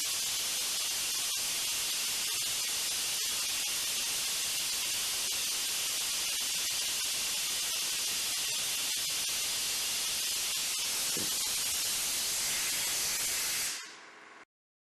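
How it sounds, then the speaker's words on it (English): Loud steady hiss of compressed air rushing into a dump truck tire, a broad continuous rush with faint clicks under it that cuts off abruptly near the end. "You only got to add a little bit of air to it."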